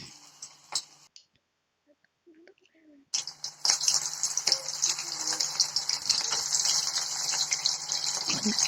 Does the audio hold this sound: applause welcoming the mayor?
no